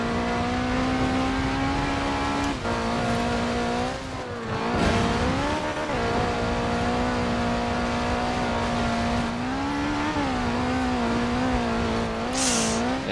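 A stock 1985 Ford RS200 Evolution is driven hard in Forza Horizon 4, its engine droning loud and close at high revs, pitch rising and dipping through gear changes and throttle lifts, with brief tire noise.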